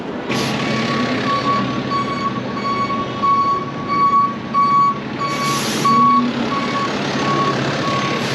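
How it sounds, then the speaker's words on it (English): Busy traffic along Central Park South in New York City, a steady roar of trucks and engines with a repeating reversing beep, air-brake hisses and horn-like tones close by, no talk. "Obnoxious amounts of traffic."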